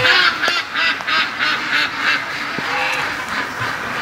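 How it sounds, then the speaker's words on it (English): Ducks in a backyard quack loudly and repeatedly in a rapid, rhythmic series, close by and fading a little toward the end. "the ducks are quacking their faces off now they heard the shotgun"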